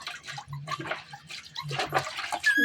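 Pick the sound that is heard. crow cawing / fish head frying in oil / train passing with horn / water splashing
water splashing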